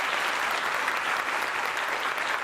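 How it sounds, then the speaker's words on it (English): A festival audience at a live forensic science event gives a dense, steady round of applause, loud and sustained throughout with no gaps. "We give Nick a massive round of applause"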